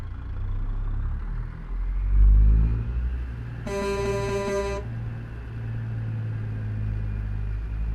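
Kenworth K100E single-axle truck in American Truck Simulator, its engine a steady low drone throughout, with a brief sustained horn blast partway through and no talk.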